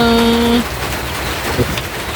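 Rain falls steadily in a rural Thai village, a dense hiss of drops that persists after a brief tonal voice-like sound at the very start.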